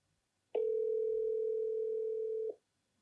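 A phone call's ringing tone sounds once as a single steady electronic beep, lasting about two seconds in otherwise quiet surroundings.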